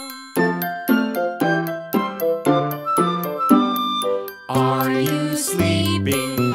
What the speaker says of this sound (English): Morning bells are ringing. Ding, ding, dong.